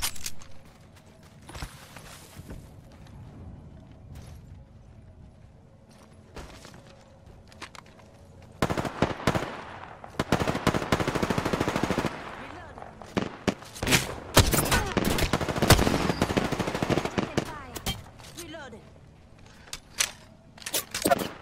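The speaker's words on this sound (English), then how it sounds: "Enemy over there. Opening fire." Rapid gunfire from the shooter game Apex Legends crackles in dense bursts, quiet and sparse at first, then loud and sustained volleys with scattered sharp shots.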